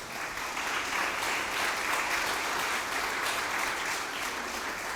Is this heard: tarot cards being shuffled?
no